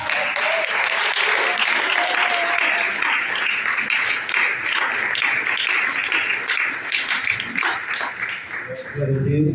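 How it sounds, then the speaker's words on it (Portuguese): A church congregation applauds steadily through the whole stretch, a dense, sustained wash of clapping that fills the room, with faint voices underneath and a spoken voice rising over it at the very end. "Você pode aplaudir a palavra?"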